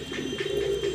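A pigeon coos close by in a soft, low, rolling murmur, joined by a nest of three eggs laid by a pair of pigeons, with no talk over it.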